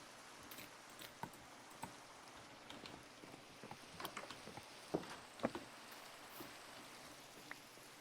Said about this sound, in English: Dreadfully rainy outside today.